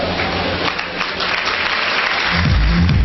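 An audience at a Safe Shop gathering claps loudly and steadily, a thick, continuous patter of many hands filling the whole stretch without any talk.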